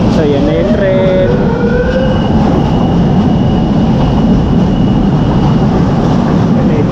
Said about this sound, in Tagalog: So yan na yung tren.